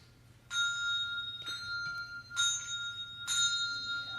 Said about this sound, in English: Allison, play that against your regular bell. as well so they can hear the difference.